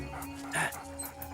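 A dog gives a brief, thin whimper close by, rising out of low background noise before fading back.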